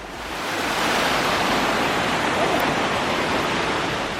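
Millard Canyon's waterfall and flowing water make a loud, continuous broadband rush that holds steady throughout, with no voices over it.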